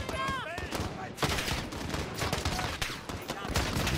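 Rapid bursts of gunfire in Call of Duty: Modern Warfare crackle throughout, loud and dense, with overlapping shots and a voice speaking over the battle at the US embassy.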